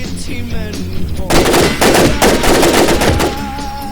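Rapid automatic gunfire from the WarZ video game rattles in a loud, close sustained burst lasting a couple of seconds, with quieter game ambience before and after.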